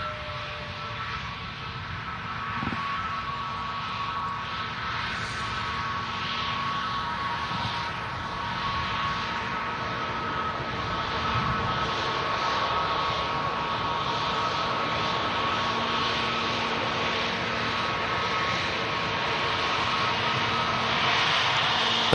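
A Scandinavian airliner with Pratt & Whitney engines taxiing at Manchester Airport, its steady engine whine and broadband roar holding at moderate loudness throughout, rising slightly toward the end with no talk.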